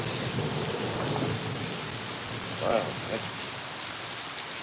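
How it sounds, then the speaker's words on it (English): Heavy rain pours steadily as a dense, close hiss, with a low rumble of thunder swelling briefly partway through; a voice briefly exclaims near the start. "that's raining pretty hard."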